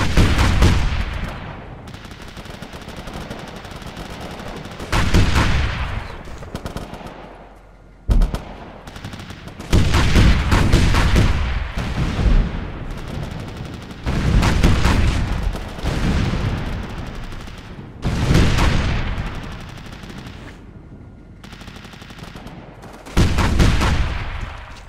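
Artillery fire mission in the video game Operation Flashpoint: Dragon Rising: repeated heavy booming blasts and rumbling barrages arrive in bursts, each decaying before the next salvo, with no speech.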